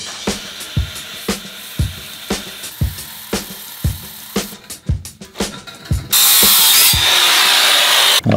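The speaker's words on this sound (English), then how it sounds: "you can cut aluminum with any old carbide tooth blade" A saw fitted with a carbide tooth blade cuts into aluminum pipe, heard as a steady series of sharp, loud ticking strokes that end in a sustained harsh, bright cutting roar up close.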